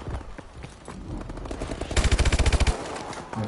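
Automatic gunfire in Call of Duty bursts out as a loud, rapid rattling volley of about a dozen shots, with scattered quieter game effects before and after.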